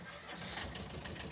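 A truck engine cranks and catches, a dense broadband rumble that stays steady and fairly loud through the brief moment with no speech over it.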